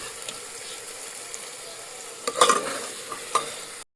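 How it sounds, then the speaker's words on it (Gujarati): Hot ghee sizzles in a pan while cooking at home, a steady soft hiss with a cluster of louder crackling bursts toward the end. No one speaks. "હવે જો ઘી ગરમ કરી નાખ્યું છે"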